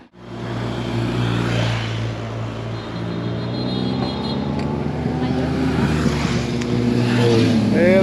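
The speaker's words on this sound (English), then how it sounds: "first outriders coming through, team cars." At the roadside by a campsite entrance, motorbike outriders and team cars from a cycling race pass by. Engine rumble and revving build steadily louder as the vehicles approach.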